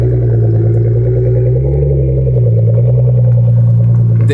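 A Nissan GT-R engine runs loud and close with a deep, steady rumble that swells briefly midway. No voices are heard.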